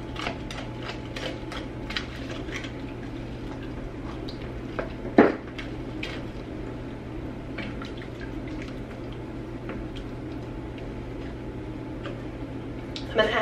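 Frozen corn stirred in a cooking pot: light clicking, rattling and scraping, with irregular taps and one sharper clack, all at moderate volume against a steady low hum.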